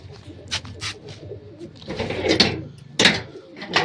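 Pigeons kept in a rooftop loft by a keeper feeding them washed wheat grain coo in short repeated bursts, with soft rustles and knocks around them.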